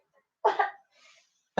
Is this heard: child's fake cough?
yes